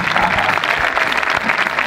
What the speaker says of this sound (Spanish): El primer aplauso va a ser para todos y cada uno de vosotros que habéis hecho posible que este evento salga adelante.